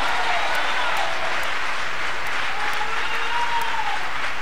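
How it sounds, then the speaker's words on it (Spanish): A church congregation applauds continuously, with dense, loud clapping from many hands filling the whole space, steady and unbroken from start to finish. "Vamos a aplaudirle al Señor ahora."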